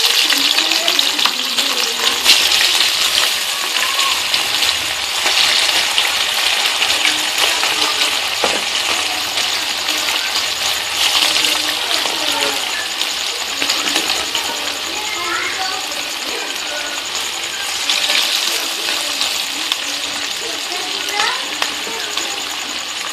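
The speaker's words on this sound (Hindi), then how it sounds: "ये मेरा घी गर्म हो चुका है। अब मैं इसे फ्राई करूंगी।" Chicken fries in hot ghee, giving a steady, close sizzling hiss with faint crackles and occasional light clinks. A voice speaks intermittently over the sizzle.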